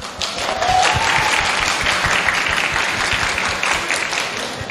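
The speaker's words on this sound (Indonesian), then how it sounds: "Tepuk tangan rek." A church congregation applauds during a Sunday baptism service, a dense, steady clatter of many hands that swells quickly and holds for several seconds, with a brief voice faintly over it at the start.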